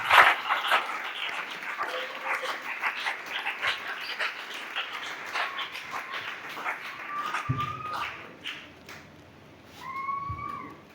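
A church congregation at a worship service applauds and cheers, a dense wash of clapping with scattered shouts that swells loud at first, holds steady for several seconds, then thins out near the end.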